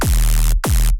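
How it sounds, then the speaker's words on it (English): Two heavy, stabby synth bass notes from an electronic track hit loud and close, each starting with a quick downward pitch sweep and ending abruptly, separated by a brief gap. "this is the bass line"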